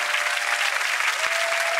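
Blender whizzing a cauliflower sauce, a steady, loud, rushing whir with a faint whine running throughout, no voices.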